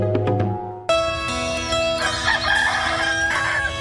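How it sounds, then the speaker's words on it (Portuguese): A rooster crows loudly and close by in a rural countryside setting, a long sustained call following a few short clucks at the start. "Acordar com os galos"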